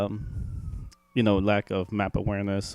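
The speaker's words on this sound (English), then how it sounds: "I'm sorry for the siren in the background." An emergency vehicle siren wails faintly in the distance on a New York street, a thin steady tone beneath a person talking close up.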